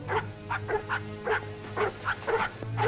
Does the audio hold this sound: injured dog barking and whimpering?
yes